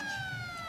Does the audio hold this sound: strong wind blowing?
no